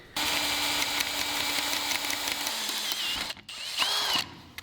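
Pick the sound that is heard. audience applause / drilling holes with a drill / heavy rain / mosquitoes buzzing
drilling holes with a drill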